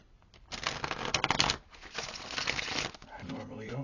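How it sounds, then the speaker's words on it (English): Tarot cards being shuffled up close in a quiet room, a soft papery riffling that comes in two bursts and trails off into faint rustling, with no talk. "I normally don't shuffle this much, or go this slow."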